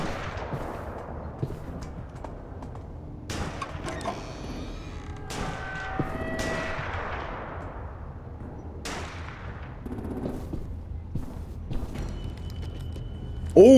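Sharp gunshots from The Walking Dead Telltale game ring out a few times, spaced apart and echoing, over a quieter background with faint scattered noises.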